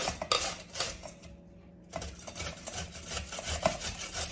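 A knife cuts through turmeric root on a board in a run of close, scraping and tapping strokes, pausing briefly and then resuming at a brisk, uneven pace.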